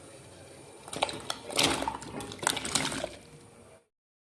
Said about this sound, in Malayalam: വെള്ളം തിളച്ച് വന്നിട്ടുണ്ട് ഇതിലേക്ക് നമ്മൾക്ക് കപ്പ ഇട്ട് കൊടുക്കാം